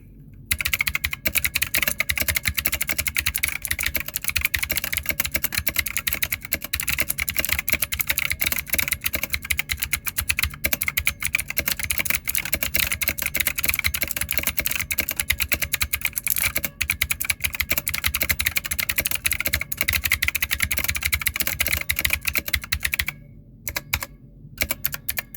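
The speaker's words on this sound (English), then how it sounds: "let's type on these keys and listen to how it sounds like." Fast, continuous typing on a Blackshark Sixgill K1 70% RGB gaming keyboard, dense close-up key clacks running nearly nonstop with only a couple of short pauses, no voices.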